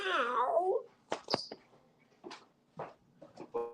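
A cat gives a long, close, wavering meow, followed by a few shorter clipped mews and chirps spaced out over the next few seconds.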